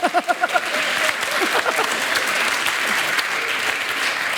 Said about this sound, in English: You're giving yourselves a round of applause